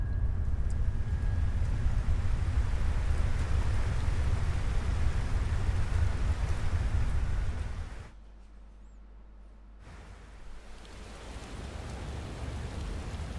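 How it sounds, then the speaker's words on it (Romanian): Steady heavy rain hisses in Final Fantasy 16, loud and continuous, then drops out almost completely for about two seconds before returning more faintly. "Plouă."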